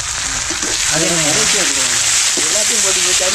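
Shallots and chillies fry in a pan for a country chicken dish, producing a loud, steady hissing sizzle close by while someone talks over it.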